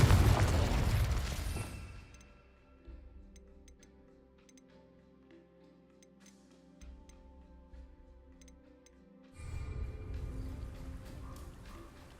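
A Confringo blasting spell goes off in the Hogwarts Legacy video game: a loud burst at the start decays into a ringing tail, then a second heavy rumble swells near the end.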